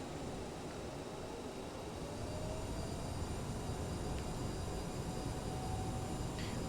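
An Aerosoft CRJ-700 in a flight simulator game rolls out for takeoff: a steady, broad engine and rolling rumble that builds slightly and holds, with no talking.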